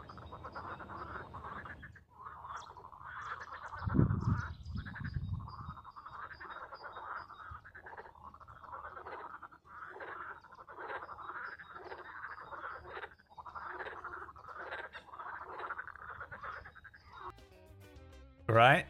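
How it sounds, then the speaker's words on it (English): Frogs croak on a walk, a rapid chorus of pulsing calls repeating in steady bursts, with a brief louder thump partway through and a short sharp noise at the end. "me and Liam were listening to these frogs"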